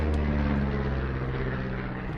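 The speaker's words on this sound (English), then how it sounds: "You see that plane?" Propeller airplane passing overhead in the video game Firewatch, a steady low droning hum that holds loud and constant throughout with no talk over it.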